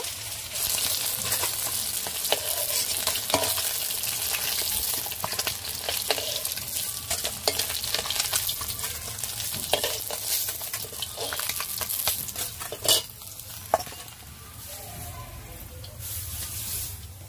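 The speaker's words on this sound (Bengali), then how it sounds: "মাছটা ভাজা হয়ে গেছে, মাছটা তুলে নেব।" Bhetki fish fillets frying in a pan give a steady, close sizzle with crackling bursts and occasional scraping or stirring clicks, running continuously throughout.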